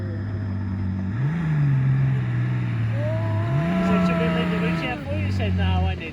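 A 4WD vehicle on a Simpson Desert sand dune, its engine droning loud and close, rising in pitch as it revs and labours up the slope, with talk over the top.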